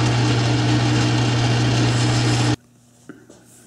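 Machine tool taking a finishing cut on a metal workpiece after a taper adjustment, a loud steady whine that stops abruptly, followed by a few faint clicks in the quiet.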